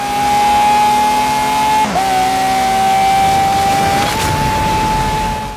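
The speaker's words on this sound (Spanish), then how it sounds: "¡Madre mía, cómo suena el coche!" Continuous close engine roar of a car driven in the video game Forza Horizon 3 with Hot Wheels, one brief drop at a gear change mid-way, then climbing again, with slight tire noise and no talking.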